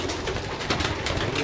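Young pigeons coo in a loft, soft throaty calls blending into a continuous murmur of many birds close by, with faint voices underneath.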